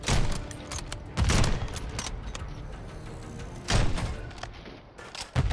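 Quick volleys of gunfire in a Call of Duty match, a few loud bursts punctuating a busy, rumbling background of battle noise.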